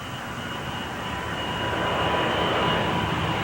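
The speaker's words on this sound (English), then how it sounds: "A jet taking off has a level of 130 decibels." A jet aircraft taking off near an airport, a steady loud broadband roar that builds slightly and holds, with no voices.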